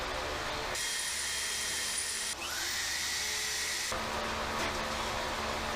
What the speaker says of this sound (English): I go through and I drill those spot welds out